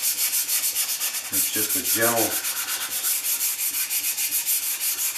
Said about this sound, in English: gentle rubbing with the sandpaper, and you can see the color blending together